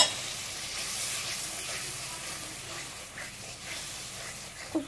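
Mustard-poppy paste sizzling in oil as water is added, a soft crackling hiss with faint stirring scrapes, quieter after an initial burst and ending with a small clink.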